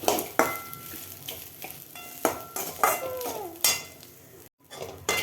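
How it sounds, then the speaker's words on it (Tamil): Coconut rice is stirred and mixed in a pan, with irregular spatula scrapes and knocks over a faint sizzle, close and clear, and a short silent gap near the end. "சாதத்தை ஆட் பண்ணி கிளறி எடுத்துக்கலாம்"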